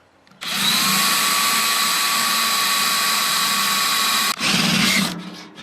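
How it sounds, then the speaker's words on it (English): A power drill bores a 1/2-inch hole through the tubing frame of an old rustic wheelbarrow, a loud steady whine running about four seconds, a brief pause, then a short second burst before winding down. "So I'm just going to come right here and we're going to put a 1/2-inch hole right here."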